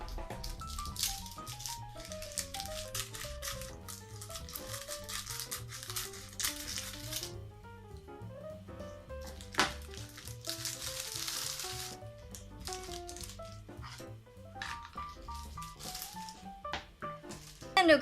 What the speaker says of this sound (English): now we have everything out of the initial plastic